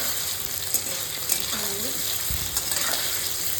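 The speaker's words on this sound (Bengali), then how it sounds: "পনিরটাকে হালকা একটু ভেজে নিচ্ছি" Paneer pieces frying lightly in a pan at home, a steady soft sizzle running throughout with a few louder crackles and spatters.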